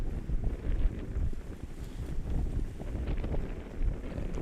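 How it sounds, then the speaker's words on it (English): Strong wind gusts on a golf course buffet the microphone with a loud, steady low rumble that swells and eases over several seconds, with no other sound standing out. "And the wind is ripping."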